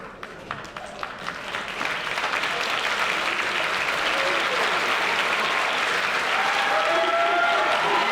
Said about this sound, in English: Well-deserved applause, well-deserved.